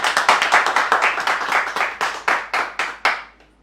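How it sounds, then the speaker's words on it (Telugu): A small group of listeners claps in a ragged, fairly close burst that slows and thins out, individual claps becoming sparser before it stops. "ఓకే అయితే చప్పట్లు కొట్టి మీ అభిప్రాయం నాకు తెలియజేయండి"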